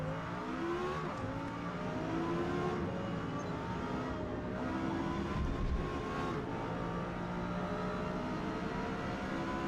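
A Lexus LFA racing at Silverstone in Forza Motorsport, its engine whining continuously with rising and falling revs through gear changes, loud and steady for the whole stretch, with no talking.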